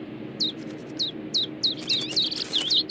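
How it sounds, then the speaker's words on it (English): Cartoon birds next door in Family Guy chirp in a series of bright, high tweets, spaced at first and then crowding together, over a low background hum. "The Persian birds next door."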